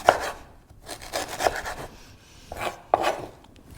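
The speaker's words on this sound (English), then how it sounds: "Just a few slices of ginger, nice and thin." Thin slices of fresh ginger cut with a knife, a series of close, dry rasping strokes with soft taps against the board, about four separate cuts with brief pauses between them.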